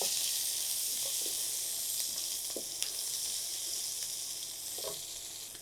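Chopped garlic fries in hot oil with a continuous close hiss, broken by a few soft clicks as it is stirred now and then. No one speaks.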